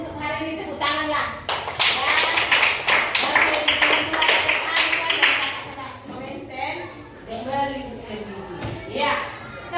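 Elementary schoolchildren clap their hands in a classroom, a rapid burst of many overlapping claps lasting several seconds. Children's voices and a teacher's speech come before and after the clapping.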